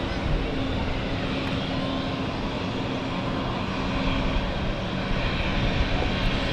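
Steady, loud aircraft engine roar at London City Airport, a broad continuous rumble and hiss held at even level throughout, with no talk.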